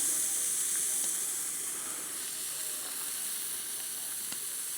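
A porterhouse steak sizzles over an outdoor fire, producing a continuous bright hiss and crackle, close and fairly steady, with no talk over it.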